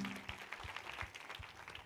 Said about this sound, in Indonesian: Boleh kita berikan tepuk tangan untuk Romo Bakti?